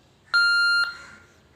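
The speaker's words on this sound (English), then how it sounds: "Now you can hear a sound, beep sound." A Kenwood TK3107/TK2107 walkie-talkie being tested after repair gives one loud, steady electronic beep of about half a second, which then fades quickly into a quiet room.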